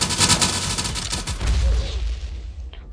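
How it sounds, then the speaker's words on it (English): Rapid AK-47 gunfire in the video game Harbor Havoc: a dense burst of close, loud shots over the first second, fading into a low booming rumble and quieter tail. "Oh, no, this is an AK-47."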